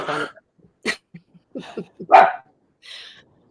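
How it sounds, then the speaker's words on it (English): Several dogs bark in short, separate bursts spread across a few seconds, close and fairly loud, with rough, cough-like yaps between quieter gaps and no talking over them. "Dogs are getting fired up. Dogs are getting upset."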